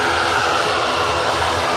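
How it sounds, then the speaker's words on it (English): Aer Lingus airliner on its takeoff roll at Liverpool Airport, a loud steady broadband engine roar filling the whole moment without a break, no voices over it. "So the Aer Lingus is taking full runway"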